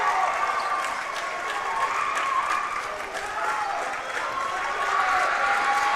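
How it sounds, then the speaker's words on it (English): A crowd at a varsity boys basketball game breaking into a sustained ovation, a dense wash of applause and cheering that holds steady throughout, with a voice talking over it. "And you're gonna see the ovation right here."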